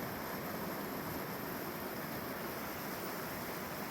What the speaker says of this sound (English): I like that waterfall action.